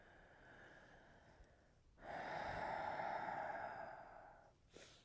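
Deep breathing during a gentle yoga stretch for a pelvic tilt session, a quiet inhale followed by a long, fuller exhale and a short breath at the end, close and soft, with no speech.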